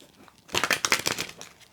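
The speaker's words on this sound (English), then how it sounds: "let's give it one more shuffle" Tarot cards being shuffled by hand: a dense run of crisp riffling and flapping card sounds after a quiet start, fairly close and moderately loud, tapering off near the end.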